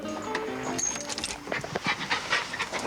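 A small white dog pants and whimpers close by, with soft breathy bursts and short whines over a steady background hum.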